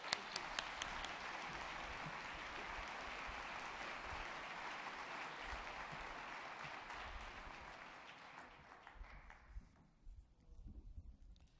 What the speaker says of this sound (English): Please join me in a round of applause for Wanda Gardner.